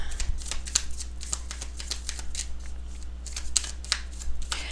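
Tarot cards being shuffled by hand in a pick-a-card reading, a steady run of close, crisp riffling and sliding strokes with no talk.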